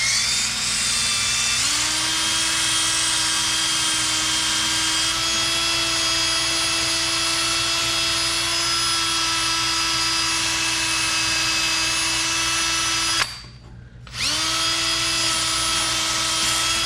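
A power tool whines steadily and loudly while stripping rust and corrosion from the inner knuckle of a Jeep Wrangler JK, spinning up twice after a brief stop in the middle, with its tone staying even throughout.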